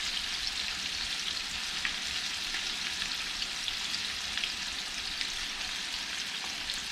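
Redfish fillets frying in hot grease give off a steady, close sizzle with crackling pops throughout, no voices.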